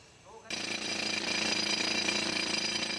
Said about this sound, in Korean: 우선 암석에 구멍을 뚫는 기구인 차감 드릴을 사용해 천공 작업에 들어가기로 했다.